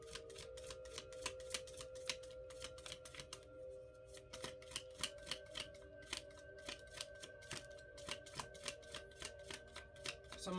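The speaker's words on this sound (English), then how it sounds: "I can't stop shuffling." Tarot cards are shuffled over and over, a quiet, rapid run of crisp clicking riffles in steady bursts with a short pause partway through, and no voice over them.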